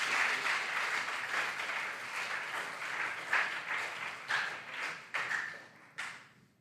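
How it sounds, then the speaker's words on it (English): An audience at a regional junior science and maths quiz contest applauds the contestants, a moderate wash of clapping that thins out, with a few last sharp claps before it fades. "A round of applause for our contestants."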